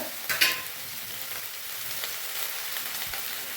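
Onion, green chili, garlic, curry leaves and tomato sizzle in a pan while a spoon stirs them, with a brief scrape near the start and a steady, close frying hiss throughout.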